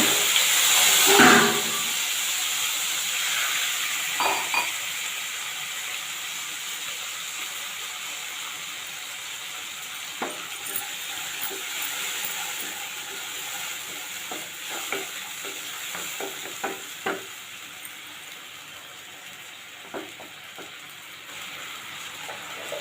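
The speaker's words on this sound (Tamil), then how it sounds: "இப்போ இதில் லேசாக தண்ணி விட்டுக்கோங்க." Water is poured into hot oil with turmeric, cumin powder and asafoetida, giving a loud sudden sizzling burst that settles into a steady hiss with occasional spoon stirs and clinks.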